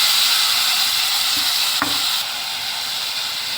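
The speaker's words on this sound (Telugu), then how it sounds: "ఇప్పుడు ముందుగా తరిగి పెట్టుకున్న 3 టమాటాలను ఇందులో వేసేస్తున్నాను." Three chopped tomatoes go into a hot pan for steamed egg curry, raising a loud, steady sizzle with a soft hiss of steam. A brief clack of a utensil sounds partway through.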